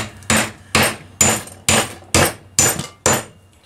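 A big socket is struck repeatedly with a hammer to drive a part out of a Kohler KT17 engine, giving seven sharp, evenly spaced metallic blows, close and loud, with no talking.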